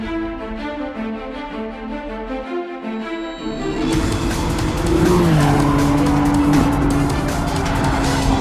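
Cars drifting at a motorsport event, with engines revving and then long sustained tire squeals rising and sliding in pitch, loud and close, over several seconds.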